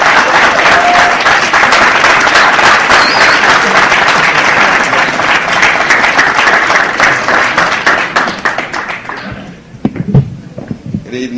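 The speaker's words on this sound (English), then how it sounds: "let's give him a round of applause" A loud, dense round of applause from an audience at an evening event for Dr. Laila Africa, sustained for about nine seconds before thinning into a few scattered claps and room noise.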